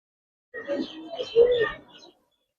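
An old-breed Giribaz male pigeon gives a short, close, soft throaty coo, rising then trailing off over about a second and a half, alone against silence.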